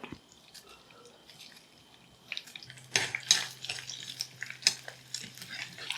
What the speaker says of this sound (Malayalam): ചൂടായ എണ്ണയിലേക്ക് നമുക്ക് കടുകിട്ട് കൊടുക്കാം.